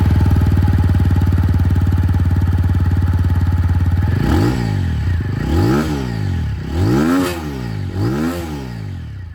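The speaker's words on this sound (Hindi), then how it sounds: "आवाज़ आप लोग यहाँ पर अपाचे की सबसे पहले सुन लीजिए।" A TVS Apache RTR 200 4V motorcycle with dual-barrel exhaust idles steadily up close, then is revved repeatedly in several rising and falling throttle blips, loud and alone with no talk.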